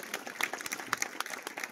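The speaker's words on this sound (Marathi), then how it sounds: "या सगळ्यांसाठी एकदा जोरदार टाळ्या" An audience at a village felicitation ceremony bursts into brief applause, a quick, moderately loud patter of many hands clapping close by, heard for under two seconds.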